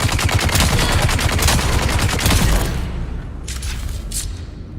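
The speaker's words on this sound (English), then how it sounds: "All they do is spam fucking grenades." Rapid grenade explosions in Dune Awakening, a loud dense barrage of cracking blasts for about three seconds, then fading into a softer rumble with a couple of late distant bursts.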